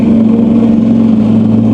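A Kubota BX compact tractor engine idles steadily without auto throttle, a close, even low drone with a constant hum throughout.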